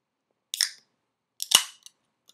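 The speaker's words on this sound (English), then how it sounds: "I'm gonna crack it open here." Two sharp crisp cracks of a Mountain Holler soda can being opened: a first click and pop, a pause, then a louder snap with a brief fizzy hiss, followed by a couple of tiny clicks in an otherwise quiet room.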